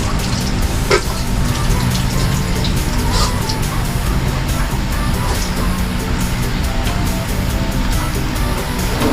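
Running tap water splashes steadily while dishes are washed, a continuous broadband rush with occasional clinks, loud and close throughout without pauses.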